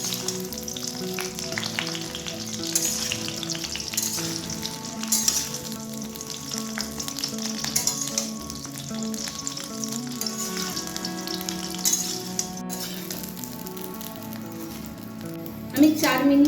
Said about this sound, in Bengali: আমি 4 মিনিটের মতন ফুলটাকে ভেজে নিয়েছি